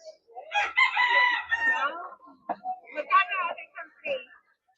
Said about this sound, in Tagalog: Ah, mga heritage chickens.